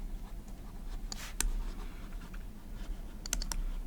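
Pen scratching and tapping on paper as steps are written down, soft irregular strokes with a few sharper taps, close and quiet.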